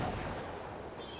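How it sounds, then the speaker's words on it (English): A single gunshot in an outdoor Unreal Engine game scene rings out as a dense burst that trails off into a long, diffuse reverberant tail lasting over a second. "Long outdoor gun tail."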